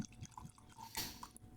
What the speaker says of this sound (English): So let's pour a little bit into my glass